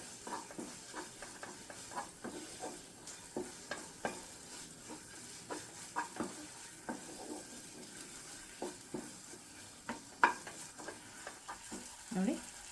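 Banana halwa with sesame seeds being stirred in a pan, soft muted sizzle beneath a rhythmic series of thick scraping and tapping strokes from the spoon, fairly quiet and close.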